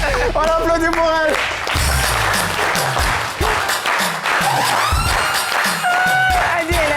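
A studio audience at a live variety show bursts into loud, continuous applause mixed with cheers and whoops, while music with bright whistling tones plays over it and voices speak.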